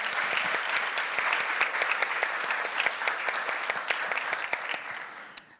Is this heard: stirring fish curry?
no